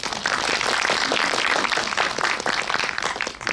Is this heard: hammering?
no